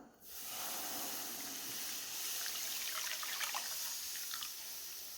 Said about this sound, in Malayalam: എടുത്തു വച്ചിരിക്കുന്ന ജ്യൂസ് നമുക്ക് ഈ പാനിലേക്ക് ഒഴിച്ചു കൊടുക്കാം